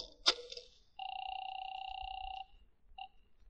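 Telephone being dialed in an old-time radio detective drama, a sharp click followed by a long steady electronic tone and one short beep, quiet and isolated with no talk over it.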